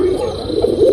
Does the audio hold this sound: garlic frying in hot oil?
no